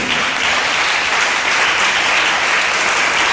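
A church congregation applauds loudly and steadily, a dense wall of many hands clapping up close, unbroken throughout, with no voice standing out.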